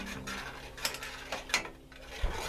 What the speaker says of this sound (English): I'm going to stir it a little bit more